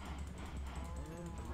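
A cow in Minecraft gives a short, faint low moo during farm breeding, quiet and brief.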